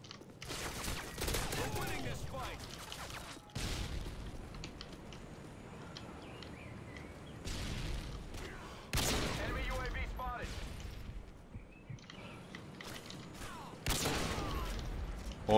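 Gunshots in Call of Duty Modern Warfare 2 crack out in sharp, loud bursts separated by quieter stretches of game sound.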